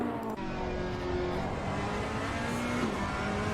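A Ferrari GT3 race car in Assetto Corsa Competizione at Bathurst holds a steady, droning engine note at high revs, with a gear change mid-run, continuous and prominent without any voices.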